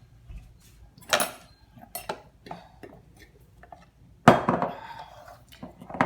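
A feeding mixture stirred in a container, with utensil clinks and scrapes in uneven close bursts; the loudest clatter comes near the end.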